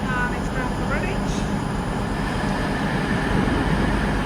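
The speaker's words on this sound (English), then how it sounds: "train should be arriving shortly for a train service bound for Redditch" A West Midlands Railway class 730 train arriving at Birmingham New Street produces a steady, loud rumbling drone that fills the station, with faint higher whines over a broad low roar.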